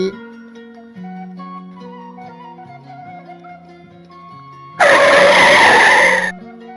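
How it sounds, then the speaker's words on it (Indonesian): Car braking suddenly on a road at night, with tires skidding in a loud, harsh screech lasting about a second and a half, set against a soft melodic background of low sustained tones. "membuat saya tersentak dan menginjak rem mendadak"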